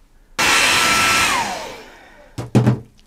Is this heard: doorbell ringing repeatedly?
no